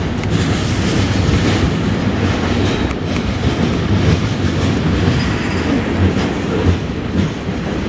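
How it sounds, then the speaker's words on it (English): A CN freight train rolls past in Montreal, its steady, loud rumble and clattering wagons filling the whole stretch with continuous rail noise and faint wheel squeal, with no talking. "I finally got a CN train"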